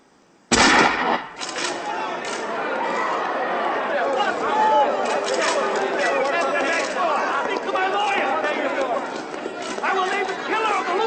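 Gunfire in an action movie: a sharp, loud burst of shots at the start, followed by scattered pops and cracks under frantic shouting and overlapping voices.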